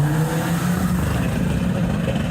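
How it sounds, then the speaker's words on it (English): A Hyundai i30N fastback accelerates hard away from a modified-car meet, its engine a loud, steady, close roar that holds for the full couple of seconds with no talk over it. "Hyundai i30N fastback, absolutely going for it."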